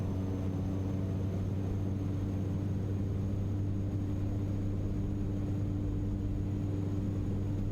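Steady droning rumble of a Black Square Caravan's turboprop engine held at takeoff power in a flight simulator, a constant low hum with tonal whine and no voices.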